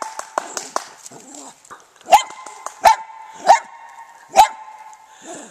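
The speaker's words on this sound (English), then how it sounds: "Let's see if we can get all the dogs in the neighborhood going" A neighborhood dog outdoors gives a few quick yips, then four sharp, loud barks spaced about a second apart, with faint whimpering in between.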